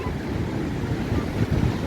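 A river flows in full at Morshi Dam after dark, a dense, steady rushing roar of water that swells slightly toward the end.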